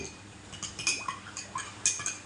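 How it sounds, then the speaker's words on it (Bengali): A spoon stirs lemon water with pink salt in a glass, giving a run of light, irregular metallic clinks and ticks against the glass, close and fairly quiet, with no talking. "পিঙ্ক সল্ট দিয়ে একটু চামচ দিয়ে একটু নাড়া দিলাম"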